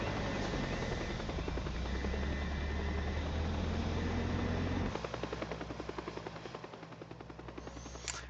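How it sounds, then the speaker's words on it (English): Steady, loud rotor thumping of a helicopter in the video game Teardown dominates, with rapid chopping pulses and a low engine drone, shifting slightly as it passes partway through. "comes the helicopter."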